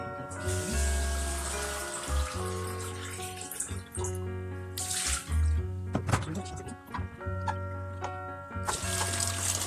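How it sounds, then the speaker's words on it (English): Water is poured into a bowl in a kitchen, giving a close, bright splashing trickle in uneven bursts with brief pauses and clinks, alongside low thumps. "I'm literally going to pour this water in it"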